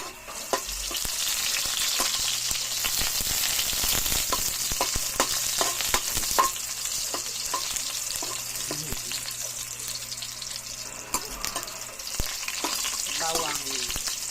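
Garlic sautés in a hot pan with a loud, continuous crackling sizzle, broken by scattered sharp clicks and scrapes of stirring.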